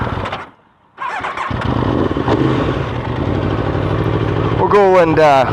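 Motorcycle engine pulling away as the rider sets off, a steady mid-range drone rising and shifting over several seconds, close and loud, with a sharp whining squeal near the end; a voice talks over it.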